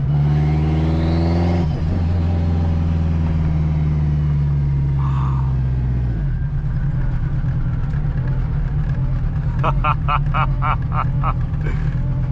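Turbocharged, straight-piped 800 HP all-wheel-drive 2002 Acura RSX Type-S building boost from inside the cabin: a loud, steady engine drone with a shift in pitch partway through and a quick run of sharp pops or flutters near the end.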